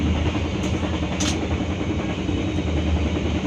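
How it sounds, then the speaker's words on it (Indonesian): The Bengawan economy-class passenger train rumbles steadily along the rails approaching Kutoarjo station, a loud continuous low roar with a couple of brief high metallic squeals. "Sesaat lagi kereta api Bengawan akan tiba di stasiun Kutoarjo"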